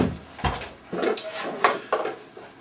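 A sticky wooden cabinet door being tugged open: several uneven knocks and rattling scrapes in close succession, moderately loud and near, with no talking.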